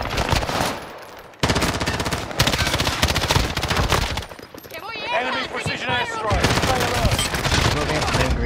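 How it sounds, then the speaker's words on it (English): Rapid bursts of automatic gunfire in a squad-based shooter video game, loud and dense with dense rattling volleys, broken by a short gap and later overlapped by chattering voices. "Squad member is getting shot at by where the weapon trade usually is"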